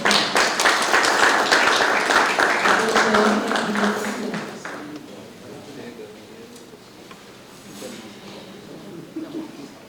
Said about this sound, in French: je vous demande d'acclamer son introduction